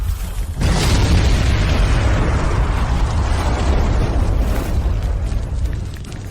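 Bomb explosions tear through a building, heard as a loud, sustained rumbling blast that swells in suddenly and rolls on for several seconds, with no voices.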